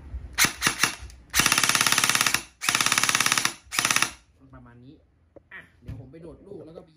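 A Double Bell M4 airsoft rifle with a 6.5-inch front set fires several loud, rapid full-auto bursts separated by short pauses, followed by quieter clicks and handling noises while someone speaks.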